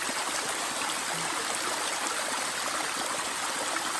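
Rain runoff streaming down a wet Appalachian Trail path, a steady broadband rush of flowing water that stays loud and unbroken throughout, with no voices.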